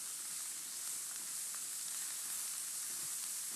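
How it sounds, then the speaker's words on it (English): Onions, spring onion, leeks and peppers frying in a pan for fried rice give a steady, even sizzle, a continuous soft hiss with no talking. "So when you're frying the onions, the spring onion, the leeks, and the peppers, you still want a bit of crunch in the meal."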